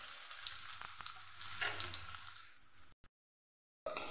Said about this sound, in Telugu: ఆనియన్ వేడెక్కింది కదండి, దీంట్లోనే ఆనియన్ వేసేసుకుందాం.